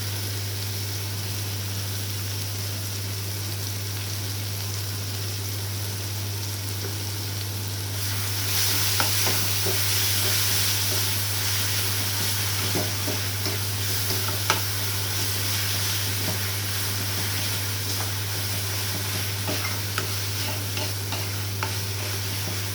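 Tomatoes fry in a pan with salt on a lowered flame while being cooked down for paneer bhurji with green chilli, a steady sizzle that grows louder and busier partway through, with occasional stirring scrapes and no talk.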